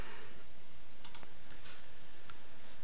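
A few light computer mouse clicks, close and crisp, spread over a couple of seconds against steady background hiss, with no talking.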